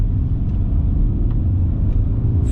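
A 2–3 ton Rolls-Royce Wraith accelerates hard, its engine a deep, steady, smooth rumble heard from inside the cabin, mostly low-pitched road and motor roar with no talking.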